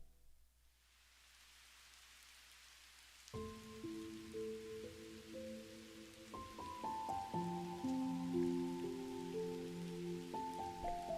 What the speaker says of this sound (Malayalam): വീണ്ടും മഴ പെയ്യാൻ തുടങ്ങുകയാണല്ലോ